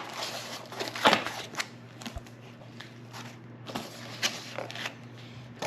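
Packaging for new AE86 drift car parts is cut open with a blade, giving soft crinkling, scraping and tearing sounds in irregular bursts, close and fairly quiet.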